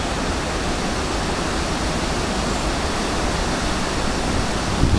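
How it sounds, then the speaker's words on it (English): Rough water churning below a dam in a canal, a dense, continuous broadband roar like a waterfall, loud and unbroken, with no voices. "You got all the rough water out there because of the dam"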